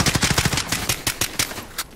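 Rapid hip-fire bursts from a P90 submachine gun in a shooter video game crack out close and loud, a quick string of shots thinning into a few spaced rounds.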